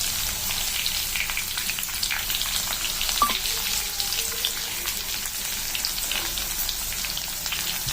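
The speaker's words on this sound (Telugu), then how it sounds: "ఇప్పుడు ఇందాక కచ్చా పచ్చాగా దంచినటువంటి వెల్లుల్లిపాయలు అదే ఆయిల్లో వేసి వేయించుకోవాలి." Coarsely crushed garlic fries in hot oil, a steady, dense sizzle that stays even and close throughout, with a faint clink of stirring partway through.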